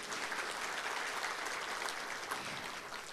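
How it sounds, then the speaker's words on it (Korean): Audience applause at a forum session in Seoul after a guest speaker's remarks, a short burst of dense, even clapping from a seated crowd. "큰 박수 부탁드립니다."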